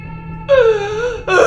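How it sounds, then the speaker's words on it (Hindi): A woman's eerie crying wails in a horror story: one long, trembling sob followed by a second rising cry, loud and close with no other sounds. "उसे किसी औरत के रोने की आवाज़ आती है।"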